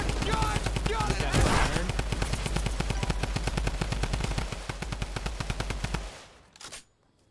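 Tommy gun fire in Fortnite Season 9: long rapid bursts of automatic shots rattle steadily for about six seconds, loud and close, then cut off into a faint tail.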